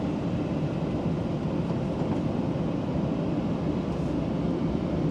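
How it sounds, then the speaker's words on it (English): An empty automatic truck's exhaust brake holds it on a steep descent of Mt Victoria, Australia, making a constant low droning rumble that stays at an even loudness with no break. "the exhaust brakes are holding us up"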